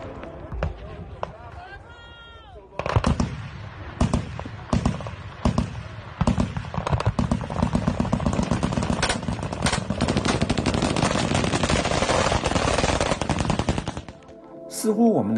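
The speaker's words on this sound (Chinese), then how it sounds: "他们仍然毫无畏惧地对不明飞行物猛烈地开火" Bursts of gunfire, sounding like heavy weapons shooting at a UFO over rugged mountainous terrain at about 1,168 m, crackle in dense rapid volleys that run almost continuously, with shouting voices heard before and at the end.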